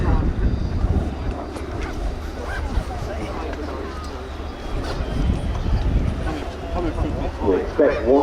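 A jet aircraft rated at 20,000 pounds of thrust passes at the Royal International Air Tattoo airshow, making a broad, steady roar that fills the whole clip beneath constant crowd chatter and hubbub.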